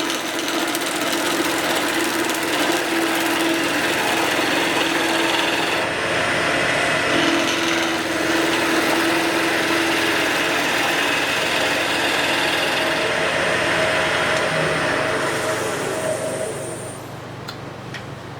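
A gouge cuts a wood spindle spinning on a lathe, giving a steady, loud rasping hiss with a hum underneath that continues throughout and eases off at the end.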